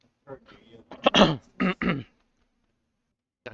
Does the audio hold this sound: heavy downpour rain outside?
no